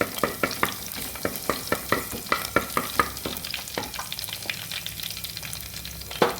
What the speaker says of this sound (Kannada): ಇದು ಬಿಸಿ ಆಗುವಾಗ ಕೂಡಲೇ ಜಜ್ಜಿಟ್ಟಂತಹ ಬೆಳ್ಳುಳ್ಳಿಯನ್ನು ಹಾಕ್ಕೊಳ್ತಿದ್ದೇನೆ. ಬೆಳ್ಳುಳ್ಳಿ ಸ್ವಲ್ಪ ಇದರಲ್ಲಿ ಫ್ರೈ ಆಗಬೇಕು.